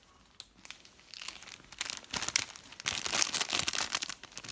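Paper goods in a mail package are torn open by hand without scissors, with crinkling and ripping paper that starts soft and grows into louder, busier tearing bursts.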